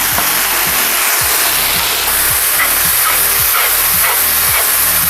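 Onions and carrots frying in a cauldron with tomatoes then added, a loud, steady sizzle and hiss that continues throughout with no talk.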